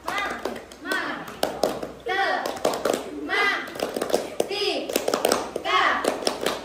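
A secondary school math class does the rhythmic math clap chant, children's voices calling out in bursts between sharp, patterned hand claps and taps, loud and close.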